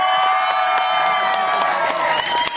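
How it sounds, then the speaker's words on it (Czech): An outdoor crowd at a Masopust carnival in Nová Paka claps and cheers steadily for a white horse, a dense and sustained round of applause with scattered shouts. "takže potlesk pro koně prosím teď"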